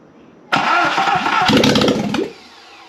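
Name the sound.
Subaru EJ25 engine starting on a test bench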